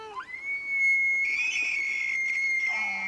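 A voice imitates an elk bugle: a rising squeal into a long, high, whistling tone held for seconds, loud and close.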